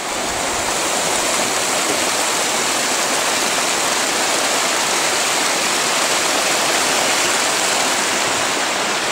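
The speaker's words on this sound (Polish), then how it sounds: "znalazł taki ładny wodospad" A waterfall on a mountain trail in the Karkonosze near Karpacz, its steady rushing roar close and loud throughout, with no voices.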